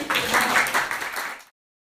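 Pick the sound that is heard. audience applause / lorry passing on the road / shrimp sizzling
audience applause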